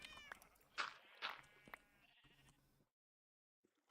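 Sheep in the video game Minecraft bleat several times in quick succession, a few nasal wavering calls up close, then fall silent.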